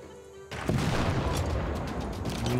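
A field cannon artillery attack in Civilization VI, with a loud booming blast after a quiet half-second, then a sustained roar of fire and rumble that holds steady to the end.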